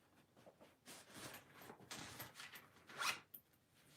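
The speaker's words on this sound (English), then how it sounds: "Oh, look at the cute little zipper." A small clothing zipper is handled close up, several quick rasping zips in irregular bursts, the sharpest near the end, faint and alone without talk.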